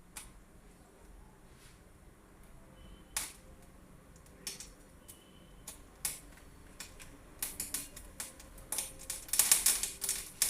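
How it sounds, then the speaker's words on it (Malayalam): Mustard seeds pop in hot coconut oil, sharp irregular crackles that start sparse and quiet and grow denser and louder toward the end, close by, with no talk. "കടുക് പൊട്ടാൻ തുടങ്ങി കടുക് പൊട്ടി വരുമ്പോൾ"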